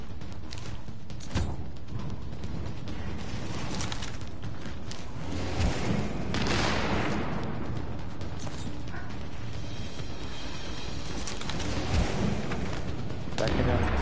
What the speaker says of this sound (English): He's throwing nades.